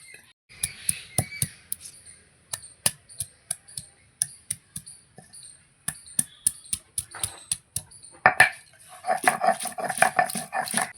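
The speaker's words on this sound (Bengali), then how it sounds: "জিরের সঙ্গে আমি আদা বাটবো" Ginger being ground with cumin paste by hand, a stone pounding and scraping in a dense run of sharp close knocks and taps, with a rougher grinding rasp near the end.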